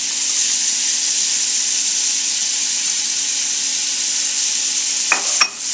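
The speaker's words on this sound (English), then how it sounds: "So to this melted butter, I'm going to add the onion." Chopped onion sizzling steadily in melted butter in a hot pan, a continuous close, even frying hiss through the whole stretch with a couple of brief clinks near the end.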